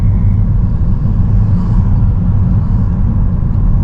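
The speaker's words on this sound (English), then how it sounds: "But you can see the traffic." Rush-hour road traffic in Tallahassee rolls past as a continuous low rumble of car engines and tires, steady and fairly loud with no distinct single vehicle standing out and no voices.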